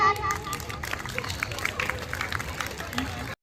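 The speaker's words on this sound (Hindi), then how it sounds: "तो उनके लिए जोरदार तालियां" A crowd of students and staff applauds NCC cadets at a school Republic Day celebration, with brisk, scattered clapping at a moderate distance over a busy hum of voices.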